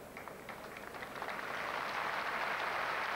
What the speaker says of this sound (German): Applaus für beide.